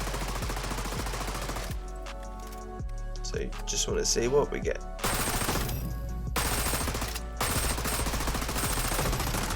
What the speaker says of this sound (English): it just fires so quickly, and sometimes I was even almost double checking right there that I had the suppressor on